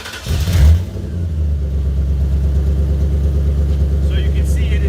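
A 1998 Ford Mustang GT engine revs once, then settles into a loud, steady, rumbling idle close by, with faint background noise near the end.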